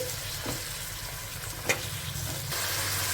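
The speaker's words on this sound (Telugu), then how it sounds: "ఇప్పుడు ఈ టమాటో ముక్కల్ని అల్లం వెల్లుల్లి పేస్ట్ని ఒక రెండు నిమిషాల పాటు ఫ్రై చేసుకోవాలి" Tomato pieces with ginger garlic paste frying in a pan for pilau, a steady soft sizzle with a faint utensil click partway, no voices.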